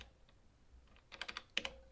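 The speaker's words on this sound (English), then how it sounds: "you're just scrolling through with the arrow keys, and you hit yes to select it" Buttons on an Elektron Octatrack sampler are pressed, a quick cluster of small, close plastic clicks and taps in a soft, quiet room.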